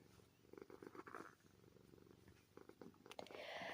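An old cat purring steadily up close while nuzzling, a soft continuous rumble with rustling movement throughout.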